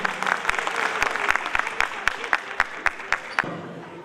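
A hall audience bursts into loud applause for the Nepal batch at a Republic Day celebration with Nepal Telecom, with sharp claps and a dense, sustained clatter that fades out near the end.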